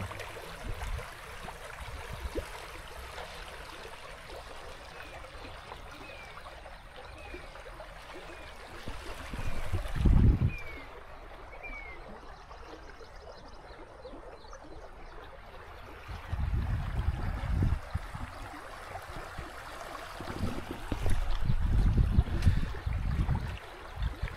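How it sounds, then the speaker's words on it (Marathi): Clear river water flowing near a farmhouse in Khopoli, a faint continuous wash with a few louder gurgling surges, heard close and alone. "वाहतो पाणी."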